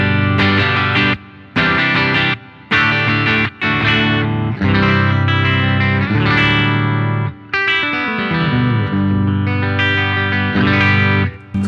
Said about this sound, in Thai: เดี๋ยวผมลองเปิดคอมเพรสเซอร์แล้วกันเสียงมีความดังขึ้นน้ำหนักเสียงมากขึ้น